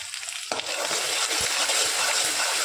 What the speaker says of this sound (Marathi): आता आपण मिक्स करून घेऊया